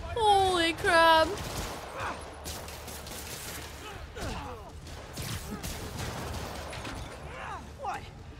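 Rockets firing in the game Marvel's Spider-Man, with sharp whooshing streaks and bursts scattered across the scene beneath excited talking, led by two loud tonal blasts at the start.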